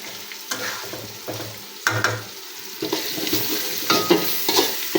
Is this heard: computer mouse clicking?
no